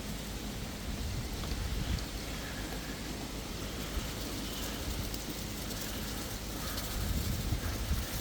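Rain falls outdoors during a brisket cook, a steady broadband hiss of drops on surfaces that holds constant throughout with no voices.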